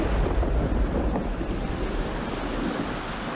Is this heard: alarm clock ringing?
no